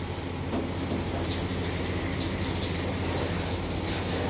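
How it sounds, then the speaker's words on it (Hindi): Water is poured from above in a steady, loud, continuous splashing rush that runs through the whole stretch without a break. "ऊपर से इससे पानी डाल"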